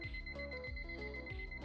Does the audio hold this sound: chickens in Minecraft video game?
no